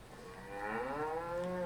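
A single cow gives a drawn-out, rising moo close by, clear and alone with only faint background noise.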